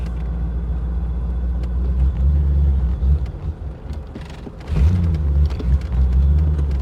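A 1986 Corvette idling with a steady low rumble, its engine rising in two brief revs as the gas is tapped gently, close by and with no talk.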